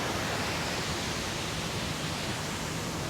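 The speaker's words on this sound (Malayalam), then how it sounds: "നമ്മളിവിടെ ഒരു വെള്ളച്ചാട്ടം കാണുന്നുണ്ട്" Hogenakkal waterfall, a steady broadband rush of falling water, continuous and even, faint and distant without any talk.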